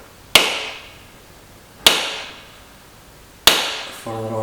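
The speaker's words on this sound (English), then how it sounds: "I'm just going to use a dot punch and the end of a hammer." Three sharp metallic taps of a hammer on a dot punch against steel body panel, evenly spaced about a second and a half apart, each ringing briefly before fading; close and fairly loud with quiet between strikes.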